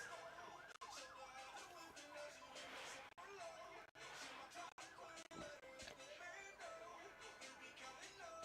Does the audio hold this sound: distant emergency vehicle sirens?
yes